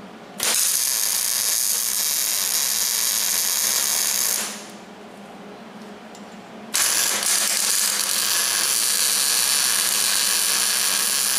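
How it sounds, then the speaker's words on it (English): A welder tacks a repair piece onto a trailer, giving two loud, sustained bursts of crackling, buzzing hiss separated by a short quiet pause. "I'm going to get this thing tacked into place."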